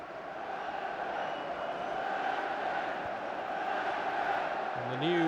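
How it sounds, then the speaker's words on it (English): A football crowd at Newcastle v Southampton in an FA Cup fifth-round match gives off a steady, dense murmur of voices that holds at an even level with no single shout standing out. "The crowd here just starting to get a little bit anxious now."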